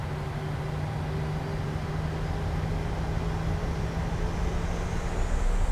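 A Ryanair airliner's jet engines in Microsoft Flight Simulator spool up on the Leeds Bradford runway, a steady, loud roar with a faint whine that rises toward the end.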